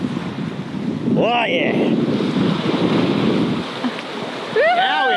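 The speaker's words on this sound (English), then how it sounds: "It lost wind and then it got the wind back." Wind rushes over a sailboat out on the water in a steady, loud roar buffeting the microphone, with waves underneath and a brief voice speaking partway through.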